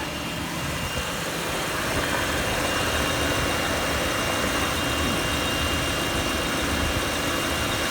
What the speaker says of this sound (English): Noisy little engine. Hate how loud this engine is.